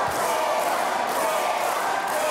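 Wrestling-match crowd cheering and roaring in a dense, continuous wash of noise from a large audience, loud and steady throughout.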